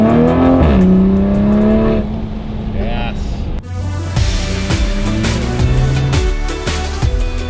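A tuned 2020 Toyota Supra with an upgraded turbo and downpipe accelerates hard, engine note climbing loudly through revs, dropping at a gear shift, then surging again, with people's voices heard over the roar.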